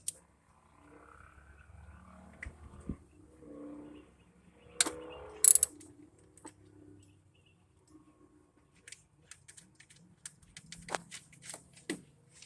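A ratchet loosens a 12mm bolt on a bracket of a 2011 Toyota Tacoma during spark plug and coil work, with scattered clicks and metallic clanks, quiet and intermittent, a few louder knocks among near-silence.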